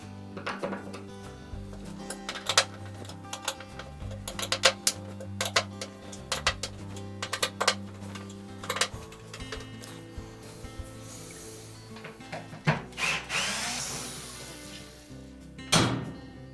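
Eight T25 Torx screws come out of the hub on the upside-down inner basket of a GE washer, with scattered close metallic clicks, clanks and knocks of tool and parts, no talk.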